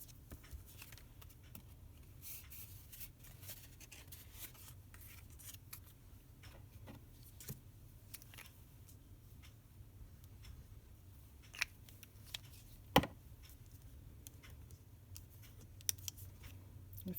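Scissors trimming card for a handmade greeting card, a few quiet, scattered snips and light rustles close by in a faint, still room.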